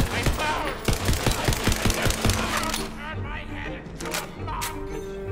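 Rapid gunfire from a Borderlands-style weapon in Tiny Tina's Wonderlands, a fast burst of sharp cracks in the first three seconds, then scattered impacts and game effects, with a voice talking over it.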